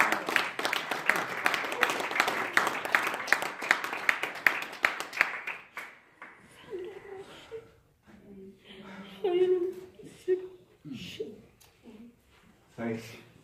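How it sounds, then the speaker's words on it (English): A church congregation claps their hands together, producing dense, steady clapping that fills the first six seconds before fading out as voices speak. "Clap your hands."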